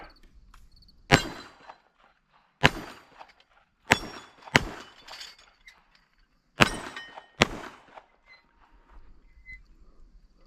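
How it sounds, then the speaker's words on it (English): An original 1945 Remington Rand pistol fired up close, six sharp cracks in irregular pairs and singles, each with a brief ringing decay, separated by near silence. "we'll shoot a couple of these up close, like if we were in a trench"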